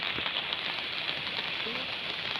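Steady rain hisses evenly throughout, a soft, constant wash of falling water with no voices.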